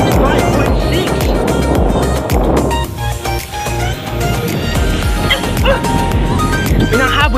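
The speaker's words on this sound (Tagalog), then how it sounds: "Pinanghabol pa na aso." Dogs bark and yip loudly close by while chasing riders on a casual group bike ride, with busy road and riding noise and some talk mixed in throughout.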